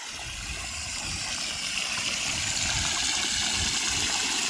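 Water gushing out of a farm spraying pipe in a cumin field, a steady broadband rushing and hissing flow that stays loud and unbroken, with a low rumbling underneath and no voices.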